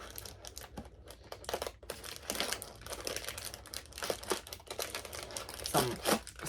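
Plastic wrapping around a small Stranger Things advent calendar item crinkles and tears up close, a continuous busy rustle with sharper snaps near the end and no talking.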